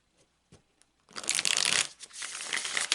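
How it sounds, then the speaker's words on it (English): A deck of tarot cards shuffled on a table, a few faint taps followed by a loud, dense riffling burst that carries on for about two seconds, close by. "I'm going to take a few moments to shuffle the deck."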